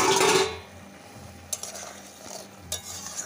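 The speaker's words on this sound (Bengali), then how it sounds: "এই দেখুন ঢাকাটা নামিয়ে দিচ্ছি।" A lid comes off a pot of simmering potatoes for a fish curry, a brief loud metallic scrape and rattle at the start followed by quieter clinks and faint bubbling.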